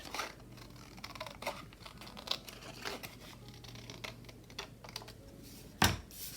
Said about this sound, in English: And then I'm going to cut it.